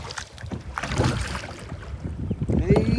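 A boat at Vikarabad pushing through waves, with water sloshing and slapping against the hull amid gusty wind noise and a few faint voices in the background.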